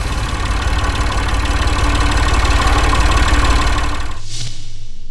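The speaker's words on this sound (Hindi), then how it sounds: "ठीक है, तो मैं भी आज ट्रैक्टर चला देता हूँ।" A tractor engine idles loudly and steadily at close range with a low, knocking diesel rumble, then drops slightly near the end; no voices.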